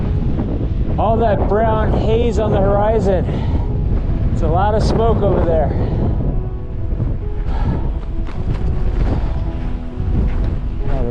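Strong, cold wind buffets the microphone on a mountain trail with a constant low roar while someone speaks over it in a few short phrases.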